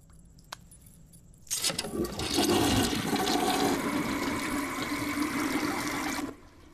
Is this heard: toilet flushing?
yes